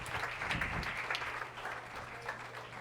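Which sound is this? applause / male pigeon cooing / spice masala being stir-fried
applause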